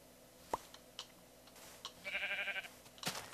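A sheep bleats in Minecraft, a short wavering bleat rising clearly above quiet game ambience, with a few faint clicks and soft ticks scattered around it.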